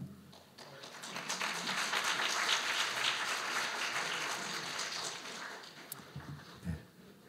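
An audience at an academic society's award ceremony applauds in a sustained, dense burst of clapping that swells, holds and gradually tapers off.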